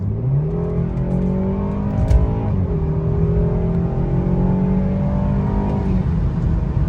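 A tuned BMW B48 four-cylinder engine pulls hard under full acceleration, its note climbing steadily through the revs with a brief shift around two seconds, heard from inside the car with no talk.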